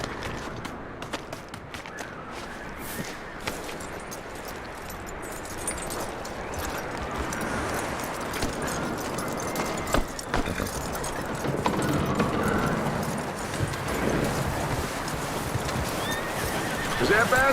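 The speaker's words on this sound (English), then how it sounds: "That looks like a decent horse." Horse in Red Dead Redemption 2 snorting and neighing amid hoof clip-clops and movement, with people talking in the scene over a continuous busy background.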